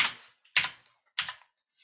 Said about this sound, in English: I'm using this crazy keyboard here in my office.